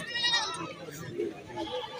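A goat bleats at a livestock bakra market in Jhelum, a short, wavering cry heard up close amid the crowd's chatter, with people talking nearby throughout.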